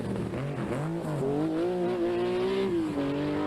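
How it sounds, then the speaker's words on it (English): The Rothmans Porsche rally car of the 1986 Circuit of Ireland Rally drives a stage, its engine rising and falling in pitch through gear changes, loud and steady, held close for a few seconds. "Coleman's control driving in the Rothmans Porsche is quicker than either of the Metros here."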